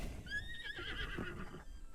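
A horse in The Legend of Zelda: Breath of the Wild sets off at a trot from a village, giving a clear, close whinny over soft hoof clops across two seconds.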